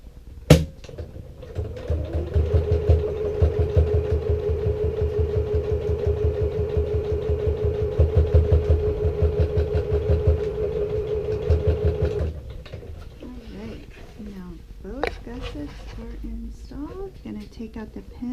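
A sewing machine stitches a tote bag gusset in a steady, close mechanical whir lasting about ten seconds, then stops and gives way to quieter handling noises and some talk.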